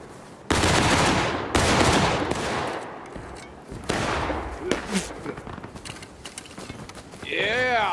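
Musket volleys in the Civil War shooter War of Rights: several loud, ragged crashes of massed gunfire with crackling tails, then scattered lighter shots and mechanical clatter, and a raised voice near the end.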